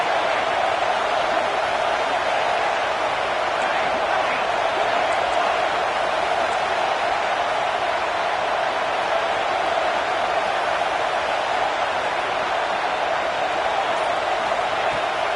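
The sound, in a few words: stadium crowd noise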